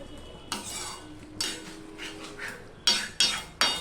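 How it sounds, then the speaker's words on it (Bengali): A utensil stirs coriander leaves into aloo dum in a pan, giving a few close scraping and clinking strokes with soft sizzling between them, the last three coming in quicker succession. "ধনেপাতাটা দিয়ে একটু মিশিয়ে নেব।"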